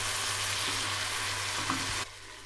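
Boiled beef frying with spices for karela gosht, a steady loud sizzle with faint stirring scrapes that drops abruptly near the end.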